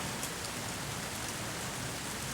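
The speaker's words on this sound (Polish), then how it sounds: "taka fajna ściana deszczu jest" Heavy downpour in Gdańsk, a dense wall of rain hissing as a steady, even wash of broadband noise with no breaks or voices.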